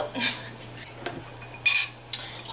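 A big metal lid clanks onto a pot of simmering rice on a stovetop, a couple of sharp clattering hits over a steady low hum, with a few lighter clinks before.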